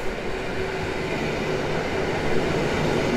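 A Koleje Mazowieckie service train passing on the approach to Warszawa Główna, a steady loud rumble and roar of wheels and carriages close by, with no voices.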